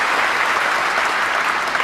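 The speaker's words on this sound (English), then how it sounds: "And a generous round of applause" Snooker audience applause after a shot in a 2008 Wembley Masters semi-final, a dense, loud, steady ovation of many hands sustained throughout.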